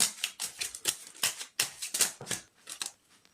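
Tarot cards are cut and handled in a quick series of crisp, dry snaps and riffling flicks, close and fairly soft, tapering off toward the end with no voices.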